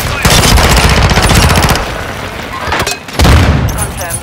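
Dense automatic gunfire and booming blasts in the Warzone video game, with a sharp flashbang-like burst near the end, loud and continuous throughout.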